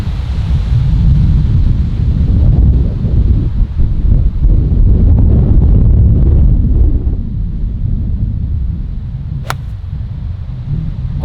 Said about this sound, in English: Wind is heavily left to right.